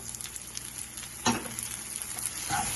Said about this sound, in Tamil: இப்போ தக்காளியை சேர்த்துக்கலாம்.